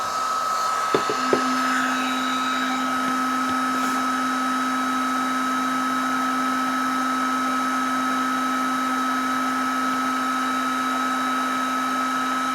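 A handheld heat tool runs with a steady whirring blower hum and a constant tonal whine, close and alone, after a couple of brief clicks near the start.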